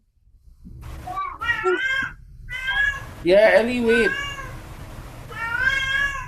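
A pet cat meows insistently nearby, giving several drawn-out, wavering cries one after another while a person talks over them in an art session.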